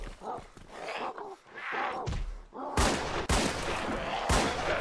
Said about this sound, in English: I suck at shooting zombies.